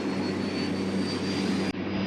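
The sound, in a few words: helicopter flying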